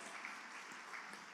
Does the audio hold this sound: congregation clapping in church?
yes